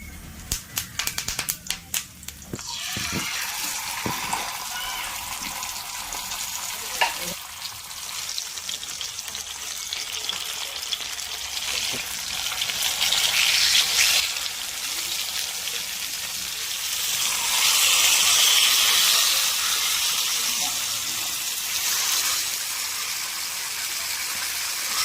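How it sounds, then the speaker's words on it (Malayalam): Fish sizzling and spitting steadily in oil on a flat dosa griddle, a continuous hissing crackle that swells and eases at close range, with occasional clatter of handling early on. "ഞാൻ ദോശക്കല്ലിലാണെന്ന് മീൻ ഫ്രൈ ചെയ്യാൻ പോകുന്നത്."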